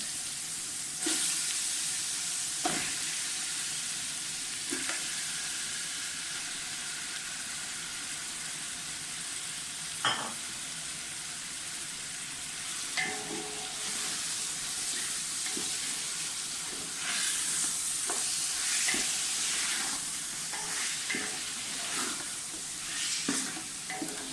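Chicken pieces frying and being stirred in a pan for Sindhi biryani: a steady, fairly loud sizzle broken by scattered scrapes and knocks from the spoon, with no talking.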